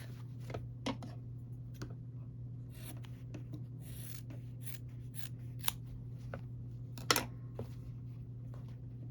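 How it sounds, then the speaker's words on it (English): Scissors snip off the corners of quilt binding fabric, a few quiet, brief cuts spaced out over a steady background hum, close by and alone without talk. "then I'm going to cut these two corners off"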